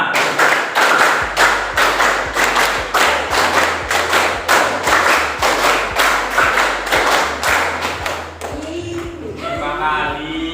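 Schoolchildren in a classroom clap together in a steady counted pattern, about twenty crisp, loud unison claps in regular groups, and then a voice speaks at the end.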